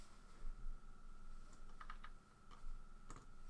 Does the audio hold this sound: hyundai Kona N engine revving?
no